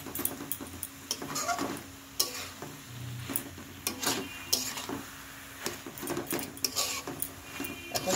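Cabbage curry being sautéed with rice flour or atta in a pan, a soft sizzle under repeated scraping and clinking strokes of a spatula, close and fairly quiet.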